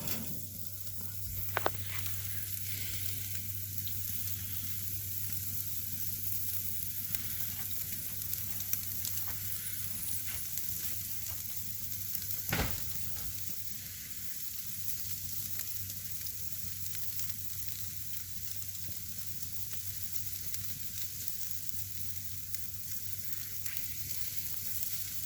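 A steak fries in a hot pan for a black-and-blue sear, a steady broad sizzle running throughout with a few brief louder crackles and pops, close and fairly even.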